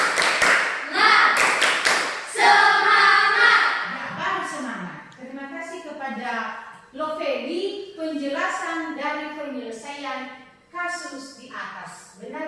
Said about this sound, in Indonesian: Tepuk semangat untuk Damai Lovely.